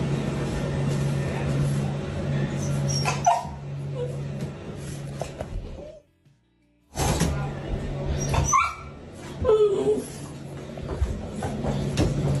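Family dogs whimper and yip in a short series of sharp, high cries close by, broken by a brief silent gap partway through.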